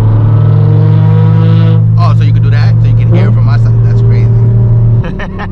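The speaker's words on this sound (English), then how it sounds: "Rev matches sound so good." A Nissan Z with a titanium exhaust blips its throttle for rev-matched downshifts while driving, a loud sustained engine drone broken by rising and falling revs, with people talking over it inside the car.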